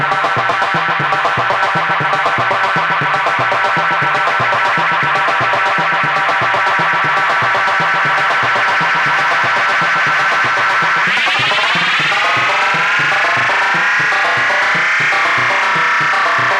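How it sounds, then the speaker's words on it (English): A dense, distorted electronic drone with echoing repeats that swells and then sweeps upward into a bright, screeching feedback howl, loud and continuous. "let me bring the feedback up"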